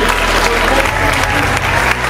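Audience applause at an annual staff meeting of an educational and social-services organisation, a dense, steady wash of many hands clapping close by throughout, with faint voices underneath.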